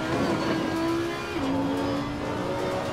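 A GT4 race car engine in a racing sim accelerates loudly and steadily, its tone climbing through the revs with a brief dip around a gear change partway through, close and continuous with no talk.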